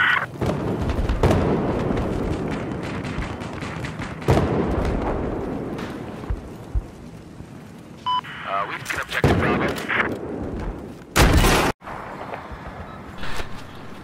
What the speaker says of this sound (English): I shot him in the face. With an RPG.